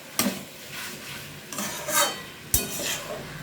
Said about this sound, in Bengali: এবারে একসাথে আমি মিশিয়ে নিলাম।